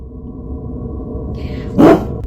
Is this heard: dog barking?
yes